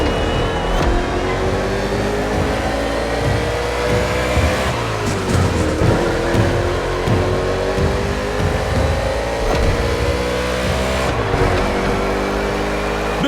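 NASCAR stock car engines racing through an urban Honolulu street circuit in the video game The Crew Motorfest, a dense, steady roar of several cars with shifting revs throughout, loud and continuous.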